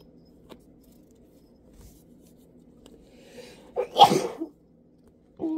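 A single loud, sharp sneeze bursts out close to the microphone after a quiet stretch of faint rustling, followed by the start of a voice.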